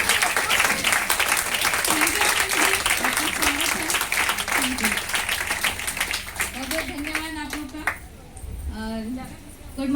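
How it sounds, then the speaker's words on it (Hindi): A standing audience at a motivational meeting gives loud, sustained applause, a thick wash of close clapping that carries on while a voice speaks over it near the end. "तो एक बार फिर से अंजलि जी के लिए खड़े होकर जोरदार ताली होनी चाहिए।"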